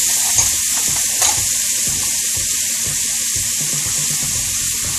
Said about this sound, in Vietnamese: mình sẽ xào phần cà chua này cho nó mềm ra nha.